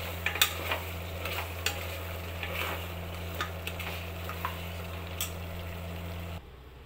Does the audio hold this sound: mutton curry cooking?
yes